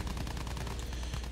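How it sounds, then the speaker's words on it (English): Rapid automatic gunfire rattles in the Battlefield 1 video game during an aerial mission against enemy pilots, a dense string of sharp, close bursts filling the short moment. "Enemy pilots are shooting at me."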